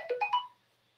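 A phone notification sounds as a quick, quiet three-note chime that rises in pitch, then gives way to silence with no talk.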